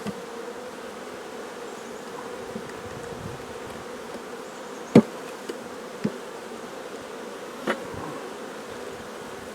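Honeybees of a Kona queen colony buzzing steadily during a nucleus transfer into a hive body, a continuous close insect hum with a few sharp knocks of hive equipment scattered through it.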